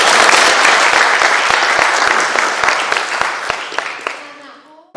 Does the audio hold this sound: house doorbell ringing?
no